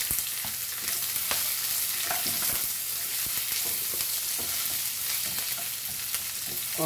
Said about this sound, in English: Let's saute this onion for a few minutes